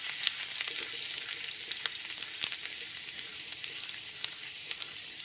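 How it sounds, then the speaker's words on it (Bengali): Chopped garlic fries in hot oil with a bright, crackling sizzle that stays even and close throughout, small pops scattered over the hiss and no voices. "রসুন কুচিটা দিয়ে দিচ্ছি রসুন কুচিটা একটু হালকা করে ভেজে নিতে হবে"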